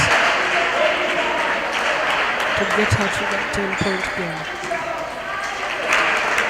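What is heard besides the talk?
audience applauding at a table tennis championship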